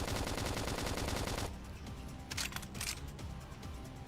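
A rapid stream of gunfire in Xenoblade Chronicles X, loud at first then cutting off into quieter scattered crackles and a couple of sharp bursts, with no voices.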